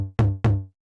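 A single electronic tom drum sample from a techno kick production, struck twice in quick succession, each a punchy pitched hit with a short decaying tail, close and clean with no talk.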